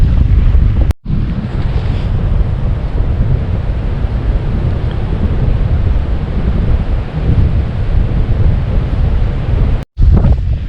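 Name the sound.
strong wind from the south off the lake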